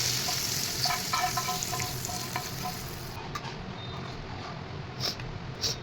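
Oil sizzles steadily in a tadka of garlic, red chillies, mustard seeds and turmeric, a continuous close frying hiss with small crackling pops and light stirring, no voices.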